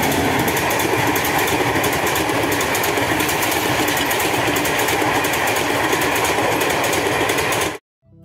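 Steady engine and road rumble fills the cabin of a shared car traveling from Guwahati to Shillong, a continuous droning hum that holds evenly throughout before cutting off abruptly at the end.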